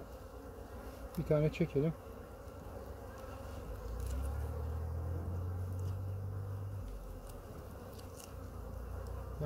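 Honeybees from a seven-frame hive hum in a steady low buzz while a frame is handled outdoors in February, with a brief voice speaking early on.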